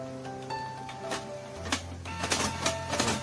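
A Canon G2000 inkjet printer feeds paper that runs straight through, giving a mechanical whir with tonal motor hums, then rhythmic clicks and clacks from the feed rollers, close and clear with no talking.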